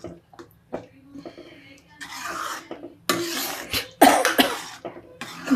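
A few short coughs and throat noises, close by, mixed with rasping kitchen rubbing sounds and brief bursts of noise.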